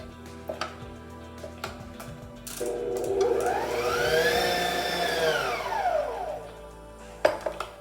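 An electric mixer whirs steadily while beating butter for pound cake batter, its pitch rising and falling over several seconds, with clinks before and after.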